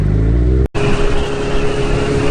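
A Kawasaki GPz550 motorcycle engine runs while being ridden very slowly, a loud, steady low hum that drops out for a split second early on and then continues evenly.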